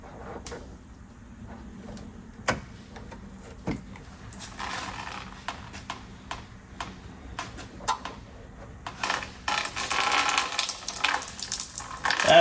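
Old fuel draining from a barn-find Chevrolet Corvair tank through a removed hose, sporadic drips and small splashes that thicken into a steadier trickle toward the end.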